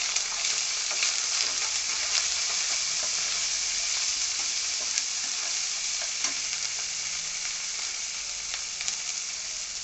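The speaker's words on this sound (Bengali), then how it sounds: "আদা রসুন ভাজা ভাজা হয়ে আসছে" Ginger-garlic paste frying with turmeric powder in a pan gives a constant, even sizzle that holds steady throughout, close up with no talking.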